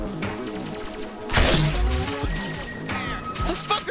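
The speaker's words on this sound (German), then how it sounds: "Was denn hier explodiert?" A sudden loud crash-like explosion in the video game High on Life bursts out, followed by rumbling debris and tonal game effects, with sharp hits scattered around it.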